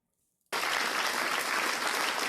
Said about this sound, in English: He wasn't expecting the applause.